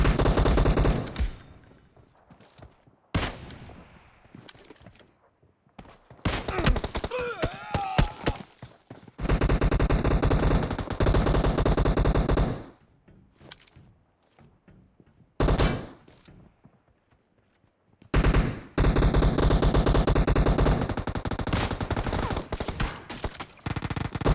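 Kar98k rifle gunfire in the PUBG Mobile shooter game comes in loud, dense bursts broken by short quiet gaps, along with in-game effects.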